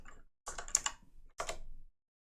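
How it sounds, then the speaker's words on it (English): Keyboard typing effect from the video game Gabriel Knight 3, heard as two short bursts of rapid key clatter separated by a brief pause, fairly quiet and with no talk. "Why was it doing the typing sound for her?"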